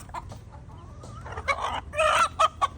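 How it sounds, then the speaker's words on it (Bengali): A large hill-breed rooster clucking close by in a rural yard, a series of short sharp clucks and squawks growing louder toward the end over a low background hum. "যে সবচেয়ে বড় মোরগটা ওটা ধরবো"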